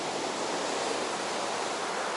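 Rough, stormy Baltic sea surf at Zelenogradsk roars steadily, a continuous loud wash of breaking waves with no voices.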